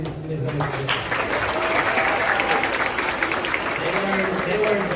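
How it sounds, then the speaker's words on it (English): Audience at a band showcase applauding the performers, continuous full clapping in a reverberant room with some voices and talk mixed underneath throughout. "Round of applause one more time for these amazing."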